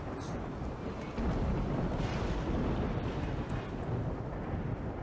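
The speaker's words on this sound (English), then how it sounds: "What a banging thunderstorm going on." A thunderstorm in the colony game Rimworld, heard as a deep, rolling rumble that swells partway through and then holds as a broad, muffled roar, with no talk over it.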